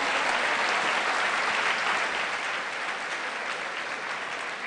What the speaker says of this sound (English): thunderous hand clap